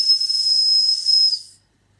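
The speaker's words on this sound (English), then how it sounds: "the whistle is just a little butterfly whistle" A small butterfly whistle on a kit-built model steam engine sounds one steady, shrill, hissing blast for about a second and a half, then cuts off into silence.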